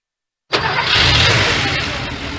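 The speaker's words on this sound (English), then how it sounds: "That's the sound of an engine running on the strength of Castrol Edge." A car engine running on Castrol Edge oil starts abruptly after a moment of silence, then settles into a loud, steady, rough running roar close by.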